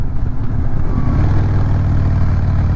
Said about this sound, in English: Nice smooth engine braking.